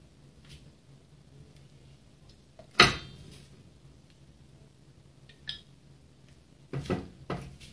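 Mutton gravy being dished out from a cooking pot with a metal utensil, quiet scraping and a sharp clang of metal on the pot, followed by a few lighter clinks and knocks, close by.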